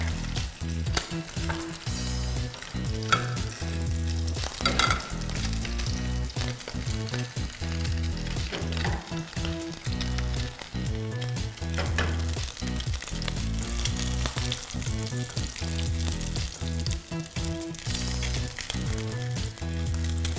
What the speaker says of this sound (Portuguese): E a nossa manteiga derretendo para fazer o molho branco